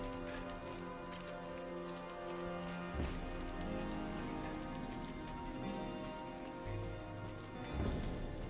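Horse hooves clip-clop in the video game Diablo IV as soft, repeated footfalls. They sit under a dense, droning game soundscape with music-like tones and occasional louder thumps.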